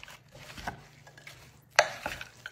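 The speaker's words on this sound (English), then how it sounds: "we're going to just give this a stir" Sausage, potatoes and melted salted butter stirred together in a crockpot: soft scraping and clinks of a utensil, with one sharper knock near the end, close and fairly quiet, no talk.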